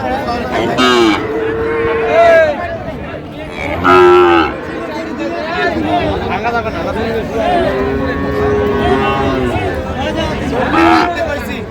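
Cattle at a market in Faridpur, among them Sahiwal heifers and small bull calves, moo repeatedly in several long drawn-out calls amid constant crowd chatter and talk.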